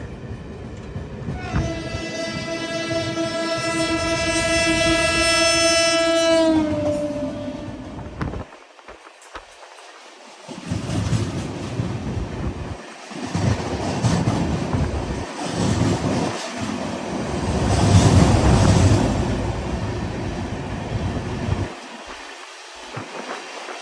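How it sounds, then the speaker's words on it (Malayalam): A train passes Ayodhya Cantonment railway station, its horn blaring a long, loud, tonal blast, then rolling wagons rumble and clatter past at close range with fluctuating loudness. "അയോധ്യ ധാം റെയിൽവേ സ്റ്റേഷൻ ലക്ഷ്യമാക്കിക്കൊണ്ട് ആ ട്രെയിൻ പോവുകയാണ്"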